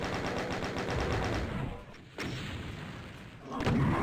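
Rapid gunfire from the DOOM map A Frank Exchange of Views, a dense run of repeated loud shots that breaks off, then single heavy blasts return, with the fight aimed at a Mancubus.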